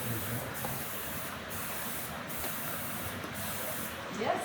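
Mist sprays in a steady hiss during a mermaid-tail underwater photo shoot, fine and continuous with a slight swell near the end and no talking.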